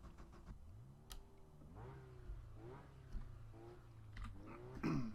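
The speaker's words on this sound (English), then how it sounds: "I should probably start my engine." A Mazda MX-5 Cup race car in the iRacing game at Laguna Seca cranks and fires, its engine settling into a low, steady idle with rising revs and blips, heard fairly faint and alone.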